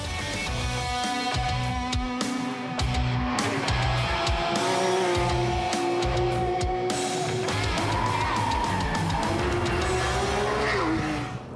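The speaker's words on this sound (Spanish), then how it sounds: "Muchos me envidiarán por poder manejar este nuevo Porsche 911 GT3 RS aquí en Bilsterberg" Porsche 911 GT3 RS on the Bilsterberg test circuit, its engine loud and close as it revs up and shifts through gears, with rising and falling pitch and brief tire noise throughout.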